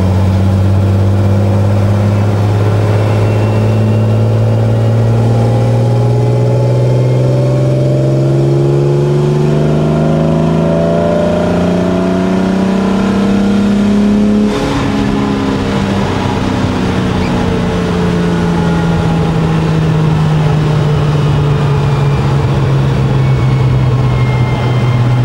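A race car engine revs loud and close while accelerating, its pitch climbing smoothly for several seconds before dropping away and settling into a lower, sustained drone, with no talking.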